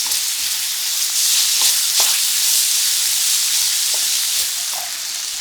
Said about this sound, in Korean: 마지막으로 대파와 꽈리고추를 더해서 골고루 휘저어주고 대파와 꽈리고추가 숨이 죽으면 불을 꺼줍니다